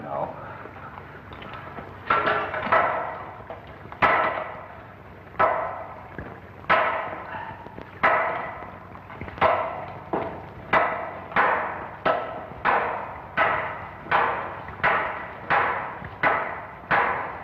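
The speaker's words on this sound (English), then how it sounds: "I brought 2 hammers, you know." Two hammers pound into a rock wall, sharp ringing blows that start sparse and irregular, then settle into a steady, quickening rhythm of loud near strikes, each with a short metallic decay.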